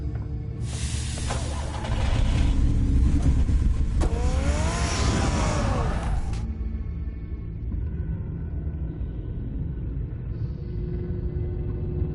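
A car in the Batman Telltale game revs and drives off, a loud broadband engine roar with a rising pitch sweep near the middle that cuts out after about six seconds, leaving a low hum.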